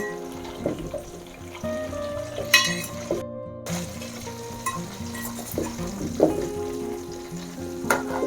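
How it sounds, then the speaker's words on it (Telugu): Amla being stirred and fried in a pan for chutney, a steady sizzle with intermittent scrapes and clinks of the spoon, close and fairly loud with no one talking. "ఇలా మనం కలుపుతూ ఉంటే అన్నీ ఈవెన్గా ఫ్రై అవుతాయి"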